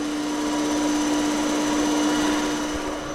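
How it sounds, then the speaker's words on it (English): A grinding machine works an Oselli crankshaft for an MGB engine, with coolant suds running, producing a steady, loud whirring hum with a sustained high tone throughout, no voices. "and then I'm going to start to grind this crank."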